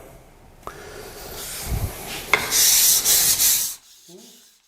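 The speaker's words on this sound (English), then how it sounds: "sharpen a chisel in the simplest, most effective way" A woodworking chisel is rubbed across a waterstone in a few scraping strokes, a gritty rasping hiss that builds to a steady louder stretch before stopping abruptly, close up with no talk.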